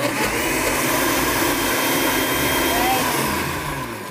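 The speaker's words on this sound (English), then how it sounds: "And now we blend." A blender whirs steadily and loudly as it purées avocado with olive oil and a few drops of orange essential oil into a hair mask, a continuous close motor roar.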